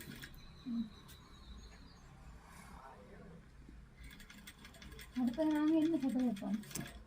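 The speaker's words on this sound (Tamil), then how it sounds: "சியானா தைக்க நான் வீடியோ எடுக்கிறேன்" A domestic sewing machine stitching fabric gives off a soft mechanical whir and clatter, with a voice speaking over the later part.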